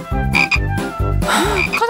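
A frog croaks loudly and close in a rapid run of repeated throaty pulses, clear and alone without talk.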